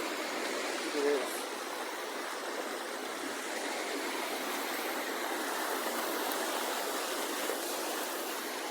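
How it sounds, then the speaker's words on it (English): Floodwater from heavy rain rushes over a bridge by a swollen creek in Eidsvold, a steady, loud broadband roar of flowing water that continues unbroken throughout. "Water going on the bridge."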